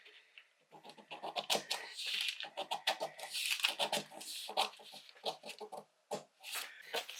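Scissors snipping through a paper sewing pattern along one leg of a dart, a close run of crisp, irregular cuts and rustles that pause briefly between snips.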